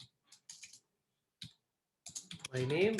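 Scattered light clicks of typing on a computer keyboard, in a few short bursts between pauses, with a voice speaking over the end of the stretch.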